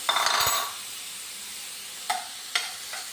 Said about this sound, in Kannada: ನಮ್ಮ ಪೈನಾಪಲ್ನ ಚೆನ್ನಾಗಿ ಫ್ರೈ ಮಾಡುವ